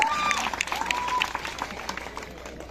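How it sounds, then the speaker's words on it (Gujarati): A crowd at a village welcome event for a community figure breaks into brief, lively applause, with cheering voices mixed into the clapping. "આ લોકો માટે એક જોરદાર જાનદાર અને શાનદાર તાળીઓનો વરસાદ થઈ જાય"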